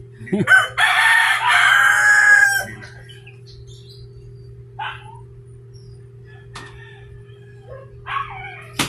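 A rooster crows once loudly and close, followed by a few faint short calls over a steady electrical hum.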